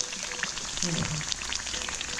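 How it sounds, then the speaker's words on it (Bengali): Kachori baskets fry in hot oil in a kadai, giving a steady, close sizzle and crackle throughout, with a faint voice in the middle. "এরকম করতে করতে একটা ভেজেছি আর একটা ভাজছি"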